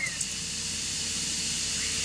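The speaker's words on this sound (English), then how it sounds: "we got a nice fine spray. Looks like it's atomizing the fuel quite well" A diesel fuel pump forces atomized fuel out of a burner nozzle for a foundry furnace, a steady, close, even hiss of fine spray that holds constant throughout with no talk.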